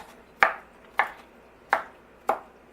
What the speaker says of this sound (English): just going to give them a rough chop